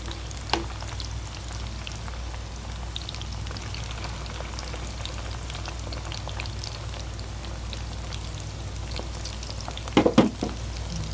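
Snacks fry in hot oil, a soft continuous crackling sizzle with scattered pops and a short burst of louder clatter near the end.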